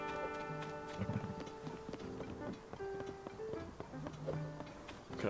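Horse hooves clip-clopping in The Legend of Zelda: Tears of the Kingdom, a light repeated tapping rhythm mixed with soft game music and chimes at moderate, fairly quiet level.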